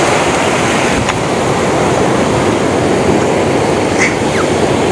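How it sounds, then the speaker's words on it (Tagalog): Rough sea waves surge and crash in a constant loud wash of roaring surf with no pause throughout. "Galit yung alon."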